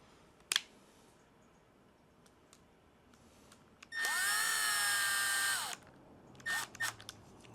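A power driver spins a screw into a Team Associated Apex 2 RC car, one close whirring burst of about a second and a half with rising whine, plus a few short bursts and small clicks around it.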